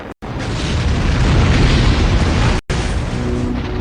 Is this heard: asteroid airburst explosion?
yes